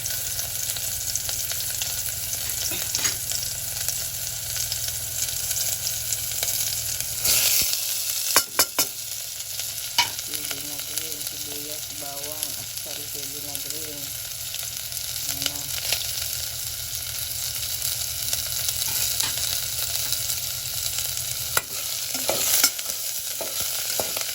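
Ginger, onion and garlic sautéing in a pan for pineapple shrimp, a continuous close sizzle with repeated spatula stirring and scraping, plus a few louder clatters along the way.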